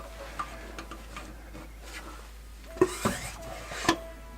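Hand fluid pump working differential fluid into the rear differential fill hole of a Ram 1500, a few faint clicking and squeaking pump strokes near the end over a quiet background.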